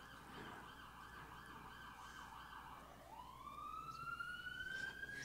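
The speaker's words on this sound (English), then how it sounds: "It's confirmed by the siren." A wailing emergency vehicle siren sounds outside a temple on Schermerhorn Street, rising and sweeping steadily, loud and fairly near over a constant background hum, with no talking.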